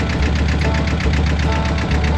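The inboard engine of a Catalina 30 sailboat runs steadily with a loud, close, rhythmic chugging and knocking, the same pulse throughout with no voices.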